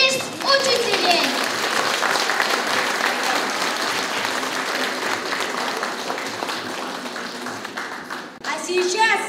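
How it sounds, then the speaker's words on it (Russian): Audience at a school alumni evening applauding in honour of the teachers, steady dense clapping throughout, close and loud, with a brief dip near the end before clapping resumes and children's voices are faintly heard. "Аплодисменты в честь учителей!"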